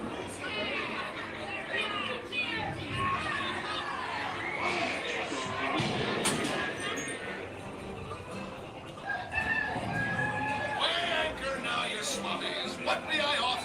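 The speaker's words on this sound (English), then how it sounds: "Oh, quit your clucking." Hens cluck and a rooster crows amid the animatronic scene on the Pirates of the Caribbean ride at Magic Kingdom, Disney World, mixed with a busy crowd and the ride's voices talking over the fowl noises.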